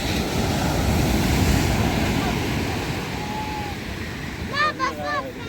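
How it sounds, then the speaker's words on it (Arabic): Small sea waves wash against a beach on the northern Moroccan coast at Moulay Bousselham, a broad, steady surf roar mixed with wind buffeting the microphone, with brief bird-like chirps near the end. "هنا كاينين المويجات."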